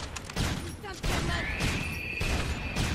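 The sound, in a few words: gunfire shooting zombies in the video game Dead Rising 3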